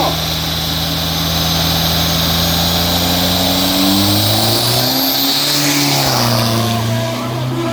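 Turbocharged F55 SUV accelerating hard down a 402 m drag strip, its engine loud and close, climbing through rising revs with clear shift drops.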